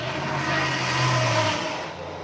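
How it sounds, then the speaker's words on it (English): A very loud truck passes outside, its engine a steady low rumble and hum that swells and holds for a couple of seconds. "That's a very loud truck."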